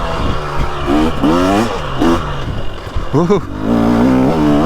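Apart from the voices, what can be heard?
2023 Husqvarna TX300 Heritage motorcycle engine revving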